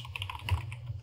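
Quick run of key presses on a computer keyboard while entering a login at a ClearOS setup screen, a short close burst of soft clicks with no voice.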